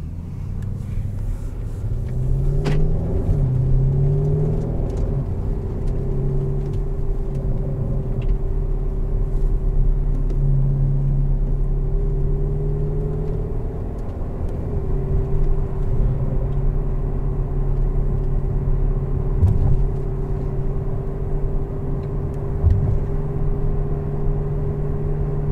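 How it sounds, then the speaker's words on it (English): A 2021 Porsche Cayenne GTS Coupe driving, with a steady low engine drone and road rumble heard from inside the cabin, the pitch rising and falling gently as it accelerates and shifts. "Let's go for a drive."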